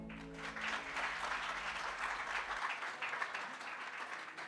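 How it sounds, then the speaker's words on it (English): Audience applause following a vocal performance at a water purification and sustainability initiative launch event, a steady dense wash of clapping that holds evenly for several seconds while a low hum drops out midway. "I think that deserves one more round of applause."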